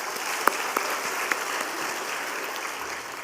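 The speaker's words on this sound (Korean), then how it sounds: "박수를 돌려드리겠습니다." A church congregation at a Friday worship service claps together in steady, moderately loud applause that fills the room, with a few sharper claps standing out early on.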